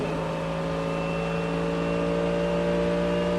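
An LMP2 prototype race car at the Rolex 24 at Daytona howls past at high speed, a loud, sustained whining engine note with steady harmonics, heard alone without talk.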